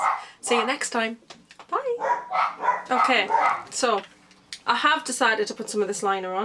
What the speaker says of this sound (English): I apologise for my noisy dogs